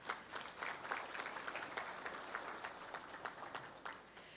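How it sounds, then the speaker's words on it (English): Steady applause from a crowd, many hands clapping continuously at a moderate distance, fairly quiet throughout. "Greet each other with a round of applause."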